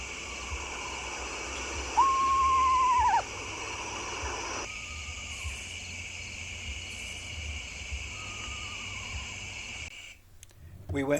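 Screech owls call at night from the woods and across a road, one steady whistled trill standing out loud and near, with fainter answering calls drifting in over a constant insect chorus.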